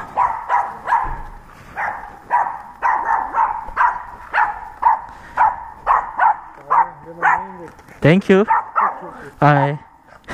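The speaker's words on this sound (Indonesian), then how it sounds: "Tapi badan ni kecil, tapi dia gonggong-gong tu kuat juga" A small dog barks repeatedly in a loud, steady series of sharp yaps close by a residential house at night, with a few higher whimpering yelps near the end and brief speech in between.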